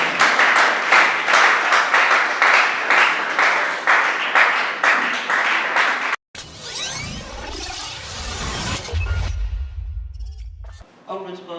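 Loud, rhythmic audience clapping fills the first half at a schools debate competition grand final, then cuts abruptly to whooshing and electronic sounds.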